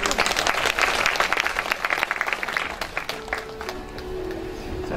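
A crowd applauds at a patriotic poetry recital concert in Gangbuk, loud dense clapping that thins after three seconds as a tone and faint talk come in.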